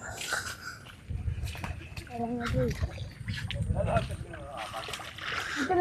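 Oars dip and splash around a wooden country boat in Perumbalam, Alappuzha, soft irregular water sounds close by, while people talk over them.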